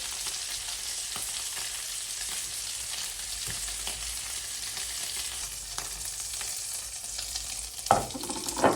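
Tomatoes fry in the same oil the meatballs just cooked in, a steady close hiss of sizzling with a couple of sharper clatters near the end.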